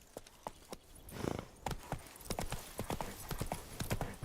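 Horse hooves galloping in The Witcher 3, a quick clip-clop rhythm of hoofbeats that speeds up and stays close, with a brief whinny-like sound and some faint talk beneath.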